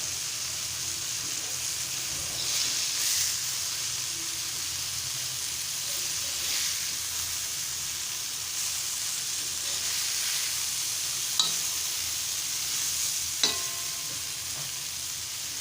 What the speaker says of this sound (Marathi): आता परत एकदा आपण असं परतून घेऊया